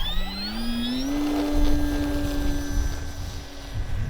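A Bigfoot 1300mm RTF RC plane with stabilization winds up its electric motor for takeoff, the whine rising in pitch over the first second and then holding steady, moderately loud and close, with no talk.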